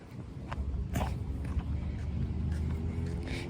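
A car passes along a neighborhood street as a low, steady engine and tire rumble, fairly faint and distant throughout, with a few light knocks and clicks nearby.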